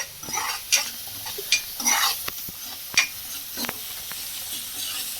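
Pasta with a spoonful of chilli powder is stirred in a hot pan, a spoon scraping and tapping in quick uneven strokes over a light sizzle, close and fairly loud.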